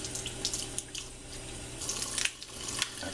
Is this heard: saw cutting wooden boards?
no